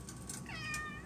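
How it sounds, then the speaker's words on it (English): A single short cat meow, fairly faint and close, over a soft background hum. "listening to the cat meow"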